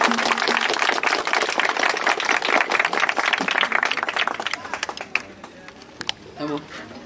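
Crowd applause and clapping at an outdoor poetry recitation, dense and sustained at first, then thinning into scattered claps, with voices talking over and after it.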